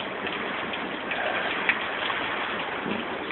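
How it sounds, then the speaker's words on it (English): Heavy rain pours down in a dense, steady hiss with no pauses, drumming close by on surfaces at an off-grid property overlooking a valley. "you can't see the valley because the rain's so heavy."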